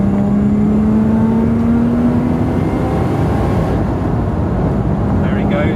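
Lotus Exige V6 upgraded to Komotec EX430 spec accelerating past a Peugeot on the road, a steady loud engine drone with rising pitch under heavy road and wind noise, heard from inside the car.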